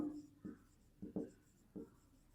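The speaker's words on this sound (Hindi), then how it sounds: "तो हम लिखेंगे" Pen strokes scratch across paper as math working is written down, about five short, faint scraping strokes spaced irregularly in a quiet room.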